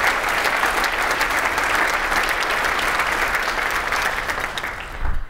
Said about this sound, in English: I hope you'll join me in a round of applause